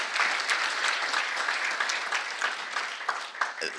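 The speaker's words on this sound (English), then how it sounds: "let's applaud for these young people" An audience claps for a group of young people at a community gathering, a moderately loud, even wash of applause that tapers slightly near the end.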